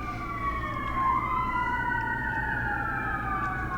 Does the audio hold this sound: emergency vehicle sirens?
yes